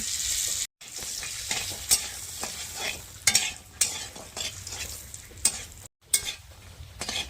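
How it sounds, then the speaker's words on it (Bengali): Soybean chunks fry in a pan with turmeric and salt, crackling and sizzling under repeated scraping stirs, close and fairly quiet, with a couple of short gaps. "এবারে সোয়াবিনটা ভেজে নিচ্ছি হলুদ গুঁড়ো দিয়ে দিচ্ছি কিছুটা লবণ দিয়ে দিচ্ছি"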